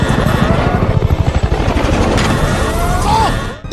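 A helicopter in an action film escape scene, from the spy thriller Salt, makes a loud, rapid rhythmic rotor chop up close, ending with a sharper burst and a sudden drop.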